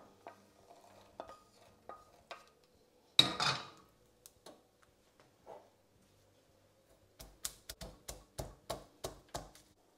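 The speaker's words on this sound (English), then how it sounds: "I'm going to get these out into a pestle and mortar and crush them" Toasted peanuts crushed with a pestle in a mortar, ending in a quick run of about eight sharp, close knocks. Before it come sparse light taps and one louder scrape.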